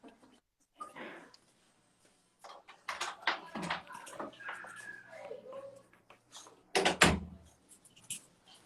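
A house door is opened for a dog, with a few sharp clicks and knocks scattered through close-up talk and household commotion.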